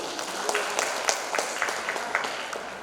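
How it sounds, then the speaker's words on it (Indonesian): Applause for the sponsors at a language ambassador pageant final rises as a steady wash of clapping with a few sharper individual claps standing out in an uneven rhythm. "Beri tepuk tangan kepada penaja kita hari ini."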